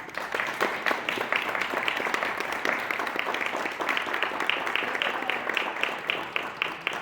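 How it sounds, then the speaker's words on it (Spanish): Steady audience applause at a round-table panel event, many hands clapping evenly and continuously throughout with no break. "Le damos un aplauso a la Marita."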